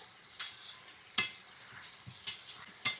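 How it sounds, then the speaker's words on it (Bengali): Duck eggs and hog plums are stirred in a sizzling pan, with a few sharp scrapes of the spoon against the pan every second or so over a soft frying hiss. "এই যে এখন আমি ডিম আর আমড়াগুলো দিয়ে দিলাম, দিয়ে একটু হালকা নাড়াচাড়া করে নিই"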